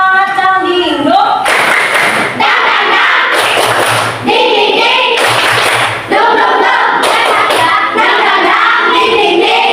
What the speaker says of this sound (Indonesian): coba ya kita tepuk semangat dalam dinding dulu